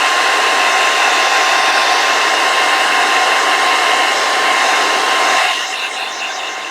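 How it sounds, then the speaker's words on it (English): A hair dryer drying acrylic paint blows loudly and steadily at close range, then its pitch and volume drop as it switches to a lower setting near the end. "I'll do some hair dryer."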